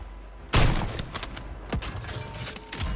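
Call of Duty gunfire opens with a loud close burst, followed by scattered sharp shots and a quick whizzing crack, bright and punchy against low background rumble.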